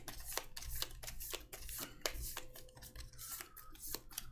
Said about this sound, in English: Let's shuffle our movement cards up a little bit.